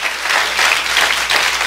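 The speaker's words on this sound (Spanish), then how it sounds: "Dele un aplauso al Señor." A church congregation claps in short, lively bursts of applause, close and full, with only faint voices mixed in.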